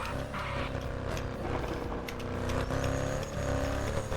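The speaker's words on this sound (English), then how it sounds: "Hear the car in third person" Tuned Mercedes CLS 63 AMG in a racing game, heard from outside the car: a loud, sustained engine drone with layered harmonic tones and mechanical whine, steady throughout with no talking.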